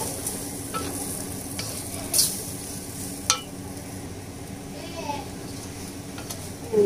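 Singaporean fried noodle ingredients with curry powder being stir-fried in a pan, a steady sizzle with the soft scrape of stirring and a couple of sharper clinks of utensil on pan.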